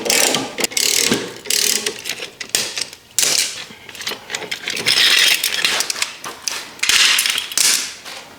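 Rapid metallic clicking of a hand ratchet tightening car wheel nuts after a brake pad replacement, loud and close, coming in quick bursts with short pauses between strokes.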